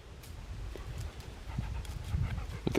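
A dog named Ollie pants in quick, breathy bursts close by during a forest camping trip, with faint rustling and scuffs around it and no talking.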